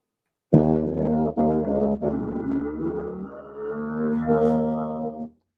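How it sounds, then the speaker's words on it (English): A low, buzzy tuba tone with a voice sung through it, bending and sliding in pitch over several seconds, loud and close. "you stay on the tuba sound, and then you kind of gliss much longer on the voice"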